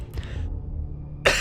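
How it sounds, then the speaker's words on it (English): A single sharp, close cough bursts out at the end, after a quiet stretch of low ambient sound from a Fallout 4 Far Harbor game session. "Sorry for all the coughing."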